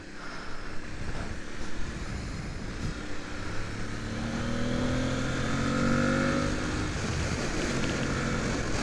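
An Aprilia Tuareg motorcycle engine revving during a test ride, a steady close drone that climbs in pitch as the bike accelerates, with wind rush underneath.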